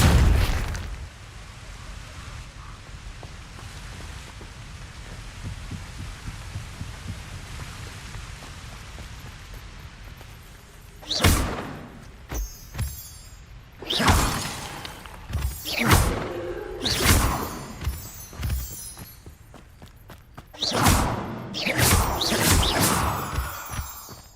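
Depulso force spells strike in the Hogwarts Legacy video game, a run of sharp booming impacts and bursts after a quieter stretch, landing in irregular clusters of loud thuds and pops.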